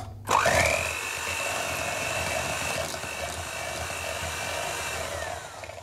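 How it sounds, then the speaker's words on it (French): An electric hand mixer beating soft butter spins up with a quick rising whine, then runs at a steady, loud motorized hum close by for several seconds before easing off, with no talking. "avec un batteur, par exemple, on va commencer par détendre le beurre"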